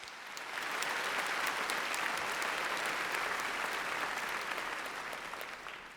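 Audience at the Raytown High School 2013 graduation applauds honor society students, a dense, steady round of clapping that swells in, holds for several seconds, then begins to taper.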